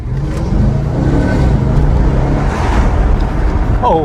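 Audi RS5 V8 Quattro with automatic gearbox, a loud, close low engine rumble that holds steady and swells slightly as it revs, with faint voices over it.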